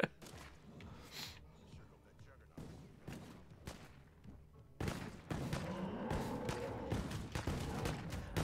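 Scattered gunshots crack in a video game battle, some players firing proper guns alongside a weak .22, with sparse shots at first giving way to a louder, busier volley of fire; a voice talks over it.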